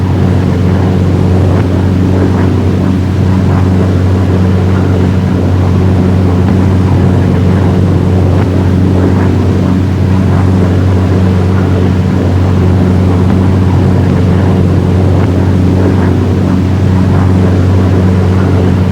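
A World War II P-47 Thunderbolt fighter's piston engine drones during a stall maneuver, a loud, steady, close roar that holds without a break throughout.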